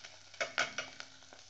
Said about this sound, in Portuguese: Aí depois de dar uma fritadinha